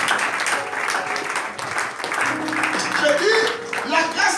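A church congregation applauding together during a sermon, steady dense clapping throughout with voices mixed in.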